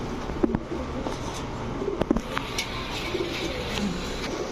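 Army pigeons, two pairs of males and females, coo softly in a loft among scattered bird calls, with low murmurs and brief clicks under a steady background hiss.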